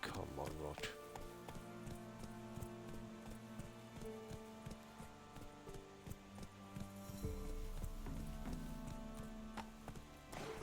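Roach the horse gallops in Witcher 3, a quick rhythmic clip-clop of hooves continuing for several seconds under game sounds and a talking voice.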